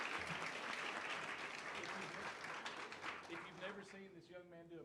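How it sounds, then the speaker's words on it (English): Audience at a school district board meeting applauds students and board members, sustained dense clapping that fades toward the end as a voice begins talking over it. "let's give one last round of applause for all of our students and, of course,"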